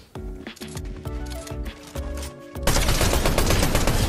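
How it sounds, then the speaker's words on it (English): Automatic shotgun fire in Fortnite on mobile, a rapid series of loud punchy blasts at close range, then a dense burst of chaotic gunfire and effects. "Yeah, the auto shotgun on mobile, I bet,"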